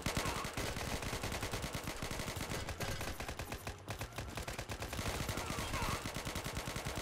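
Rapid automatic gunfire fills a first-person shooter match in Operation Scorpion, with dense, continuous bursts of loud shots barely pausing, and a faint voice sometimes underneath.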